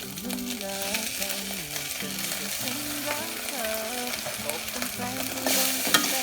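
Stir-frying in a hot pan after suki dipping sauce is added, a steady sizzle with scraping stirring strokes, and tonal background music running underneath.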